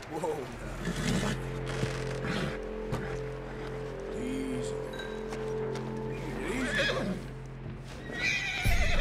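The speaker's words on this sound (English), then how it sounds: "Whoa, now. Easy." A horse in the Red Dead Redemption 2 video game whinnies loudly and its hooves clip-clop steadily, with a low sustained drone and some voice-like sound underneath.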